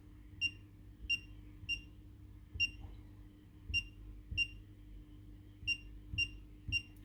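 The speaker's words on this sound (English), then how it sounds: "The lock will buzz, flash green and make a sound." An Igloohome Smart Keybox 3 gives a run of short, bright electronic beeps, one for each key press as a code is entered, spaced unevenly and close, over a quiet low hum.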